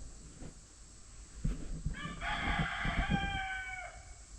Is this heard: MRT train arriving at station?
no